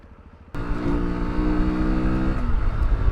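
A Junak RX ONE 125 adventure motorcycle's engine starts revving abruptly from a low idle, holding a loud, steady high-rpm drone close by with no talk.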